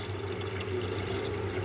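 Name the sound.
pouring water used for washing lentils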